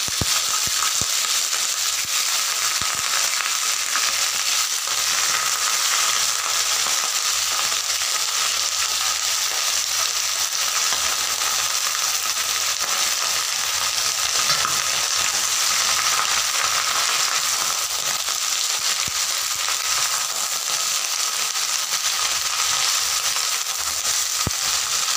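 Spinach with nigella seeds fries in a pan, a loud dense hiss and crackle that carries on without a break for the whole stretch. No voices are heard.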